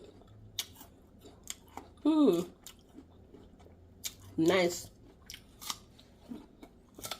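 Close, crisp crunching bites and chewing of a mild, crunchy fruit, with brief spoken words in between.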